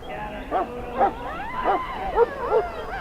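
A Mabari war hound in the video game Dragon Age: Origins barks and whimpers in a series of yelping calls, roughly six short bursts, close and fairly loud over a steady game ambience.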